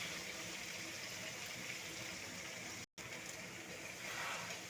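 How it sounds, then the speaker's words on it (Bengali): Water poured into a pan of browned chicken, a steady gushing splash, close and fairly quiet, briefly cut off once before continuing. "এরপরে অল্প একটু জল দিয়ে দেবো।"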